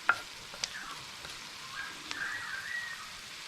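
Grated garlic drops into hot oil in a pan for a Rajasthani red mutton curry, giving a soft, quiet sizzle with a few light clinks of stirring near the start.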